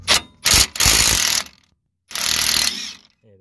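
A hand ratchet removes a nut on a VW CV joint, clicking loudly and close in three bursts of rapid pawl clicks separated by short pauses.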